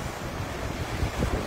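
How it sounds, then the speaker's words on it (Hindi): Strong wind gusting across a hilltop overlooking the Burlington and Hamilton area and its bridge, a steady broadband roar buffeting the microphone with louder bursts toward the end, no voices. "इतनी तेज हवा है कि"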